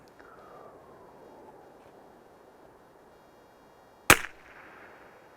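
A single loud, sharp .22 LR rifle shot fired at a long-range target cracks out once near the end, decaying quickly over steady outdoor background noise.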